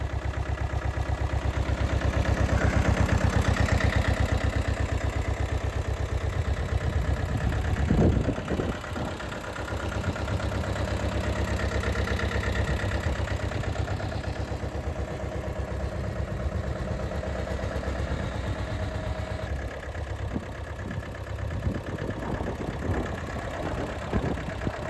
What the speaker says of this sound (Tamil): Tractor Sonalika garden drug DI 22ங்க, 4 wheel drive, ஒரே ஓனர் வண்டி, 23 மாடல்.